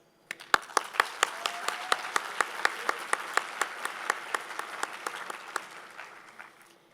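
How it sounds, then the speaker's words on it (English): Applause at a city mayor's State of the City budget address. Scattered crowd clapping with sharp individual claps standing out in a loose rhythm, fairly distant in a large room, tapering off toward the end. "we could give one more round of applause"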